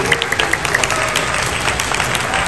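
Applause from a school audience at a student-of-the-month awards gathering, a short burst of loud, close clapping from a crowd with some distinct individual claps standing out.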